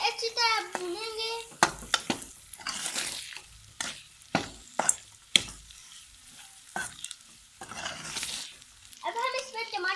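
Coriander, cumin, Chinese salt and red chili frying in a pan for chicken tikka masala, a crackling sizzle broken by repeated sharp scraping stirs, with someone talking at the start and end.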